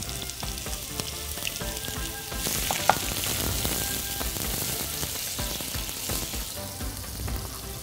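Onion frying in hot oil in a pan gives a steady, close sizzle with stirring scrapes and a sharp clack partway through, the crackle swelling after stirring, no talk.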